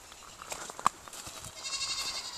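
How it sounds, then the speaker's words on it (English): Yearling goats bleat off in the distance on a rainy farm, several short faint calls spread across a couple of seconds, with one sharper cry standing out over steady rain hiss. "But you can hear the yearling goats back there."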